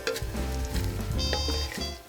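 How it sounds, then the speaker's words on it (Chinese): Sichuan pepper, fennel, star anise and bay leaf sizzle as they fry over low heat in a wok, a soft continuous crackle with a few clinks of stirring and a faint musical tone underneath. "炒香料时记得用小火"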